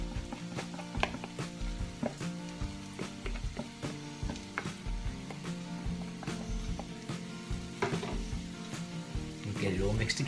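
Corned beef hash mix cooking in a pan on low heat, a steady soft sizzle with scraping and stirring clicks from a utensil throughout.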